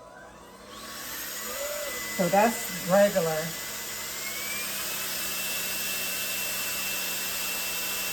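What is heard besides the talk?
vacuum cleaner running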